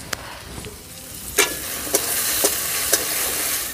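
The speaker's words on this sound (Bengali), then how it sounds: "এই আলুটা আমি এই ফোড়নের মধ্যে দিয়ে দিচ্ছি। মশলাও ভাজা হয়ে যাবে, এদিকে আলুটাও ভাজা হয়ে যাবে।" Cut potato frying in hot oil with tempering spices for a village-style banana-flower and prawn dish; a steady sizzle runs throughout, broken by a few sharp scrapes of stirring.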